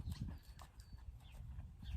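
A quiet young colt's hooves clip-clop on the ground during groundwork, a series of close, uneven thuds stepping along with faint rustling in between.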